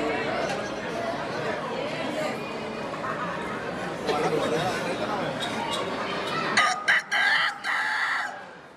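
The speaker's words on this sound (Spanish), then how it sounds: "Tu compa el gallo." A rooster crows over a busy background of chatter and ambient noise, followed by a few sharp clucking or squawking bursts near the end.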